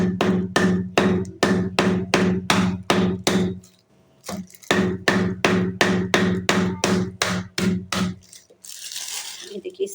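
Whole rock sugar (mishri) being broken up by hand before grinding, heard as a fast, steady run of close, heavy knocks with a brief pause midway and a scrape at the end.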